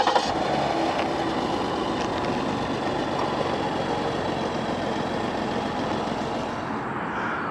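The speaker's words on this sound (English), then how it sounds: "Then we're going to double press the remote start button on the key fob." A Ford Taurus SHO engine is started by the factory remote start on the key fob, settling into a steady, moderately loud idle that runs continuously and evenly without talk.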